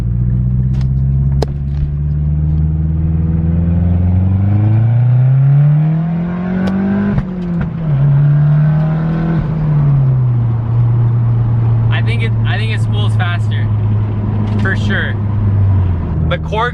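A car fitted with a CorkSport top mount intercooler accelerates hard on rough roads, its engine note rising steadily in pitch, dipping briefly, then holding a loud sustained drone, with a person talking over it.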